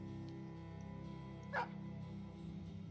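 A dog in Battle Brothers gives a single short bark or yip midway, fairly faint, over a steady low game hum with no talking.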